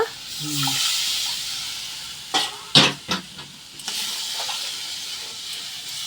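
Water poured into hot spice paste for a silver carp curry, bursting into loud hissing sizzles and sputters in a few sharp surges, then settling to a steady simmering hiss; a voice briefly at the start.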